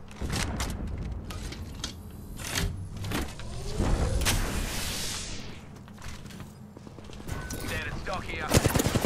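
Gunfire and weapon handling in Apex Legends: shots crackle throughout, with a mechanical reload sequence in the middle and more rapid fire near the end, all under dense game noise with speech-like sounds.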